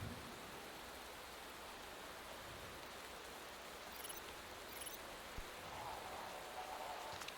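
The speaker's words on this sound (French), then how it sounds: "Là il pleut pas mal là." Steady, dense hiss of rain falling in a racing video game, continuous and even throughout, with a faint engine-like whine drifting in briefly.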